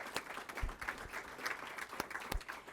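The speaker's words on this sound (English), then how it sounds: "if y'all would give a round of applause to Bank of North Georgia" Audience at a business meeting clapping for a corporate sponsor, a fairly faint ripple of hand claps with a few sharper individual claps standing out.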